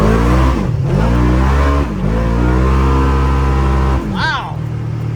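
A Polaris RZR XP1000 fitted with an MCB Performance CVTech clutch kit revs hard in three repeated accelerating pulls, loud and close, with people talking over it.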